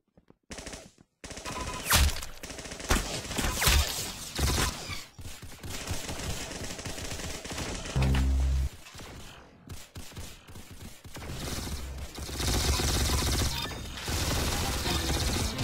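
Video-game gunfire in a shooter match, loud rapid bursts of automatic fire and single shots with mechanical reload clicks, nearly continuous across the clip.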